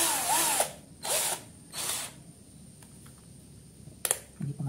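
A cordless drill runs in normal mode while driving bolts: three loud whirring bursts in quick succession, then a short sharp burst near the end amid quieter clicks.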